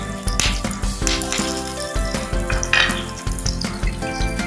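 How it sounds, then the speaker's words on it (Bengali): Chopped onions sizzle and crackle in hot white oil for palak paneer, a steady loud frying hiss broken by a few utensil clinks and stirring scrapes, close up with no talk. "সাদা তেল দিয়ে দিচ্ছি। এর মধ্যে পেঁয়াজটা দিয়ে দিলাম"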